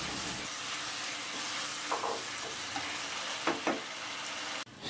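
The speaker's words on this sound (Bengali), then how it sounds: "এখন খুন্তি দিয়ে আমি টমেটোটাকে আরেকটু নেড়ে চেড়ে নিচ্ছি।" Tomatoes fry in oil in a pan, a steady close sizzle broken by a few scraping stirs of a spatula, with a brief clatter near the end.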